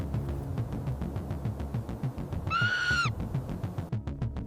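A bird hoots once in a short rising call over a busy, rhythmic musical background with steady pulses.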